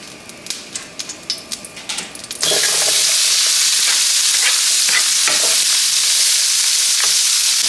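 Loud, steady sizzling of bacon grease frying in a pan, preceded by a few seconds of clinking and stirring before the hot crackle takes over.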